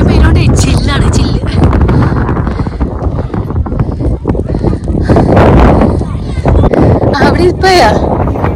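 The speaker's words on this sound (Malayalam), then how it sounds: "തന്നെ അറിയാം എത്ര കാറ്റുണ്ടെന്ന്" Strong cold wind roars and buffets the microphone in light rain outdoors, a loud continuous rush with gusts, while voices speak over it.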